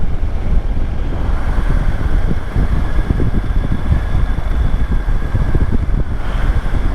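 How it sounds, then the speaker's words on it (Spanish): Constant loud rumbling and wind buffeting from a motorcycle riding a gravel road on the Carretera Austral, with rattling and crunching under heavy wind noise and no talk. "La moto le suena todo"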